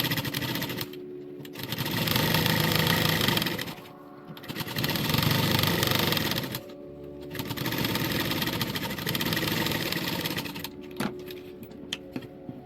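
A sewing machine stitches a folded shirt collar band in four close bursts of running, separated by short pauses, with small handling clicks at the end.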